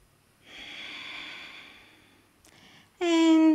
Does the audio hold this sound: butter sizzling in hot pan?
no